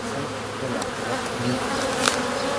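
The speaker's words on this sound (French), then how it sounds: "on est au rucher d'abeilles noires de Lune à plat" Black bees hum densely at an apiary, a continuous close swarm buzz with steady loudness and one brief sharper pass near the end.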